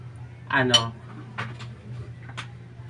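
A salad of tomato and onion being tossed in a bowl, giving a few light clinks and taps of utensil against dish with quiet pauses between, and a brief voice sound early on.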